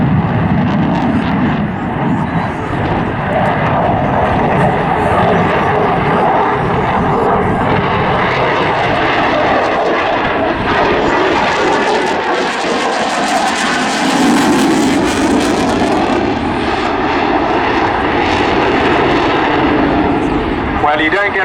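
A Eurofighter Typhoon FGR4 jet roars continuously through a display at an airshow, loud and close, its engine noise swelling and shifting in pitch as the aircraft passes and maneuvers, with commentary beneath.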